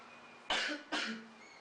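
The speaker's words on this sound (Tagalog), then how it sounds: "Dinig mo ba ang ubo ko?" Two sharp, close coughs in quick succession from one person, with no talking.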